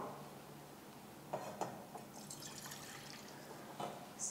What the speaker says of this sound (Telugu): దీంట్లో నేను హాఫ్ గ్లాస్ వాటర్ వేస్తున్నాను